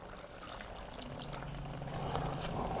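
Two cups of beef broth poured into a pressure cooker for beef stew, a steady continuous liquid pour with a low gurgle that swells slightly toward the end, close and unbroken.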